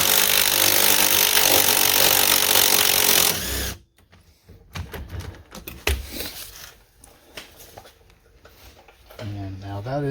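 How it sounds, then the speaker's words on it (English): A power tool whirs loudly for several seconds, spinning out the lower strut bolt on an Acura TL, then cuts off abruptly, leaving clinks and handling noises. "I have a power tool on it. We'll try to zip it out"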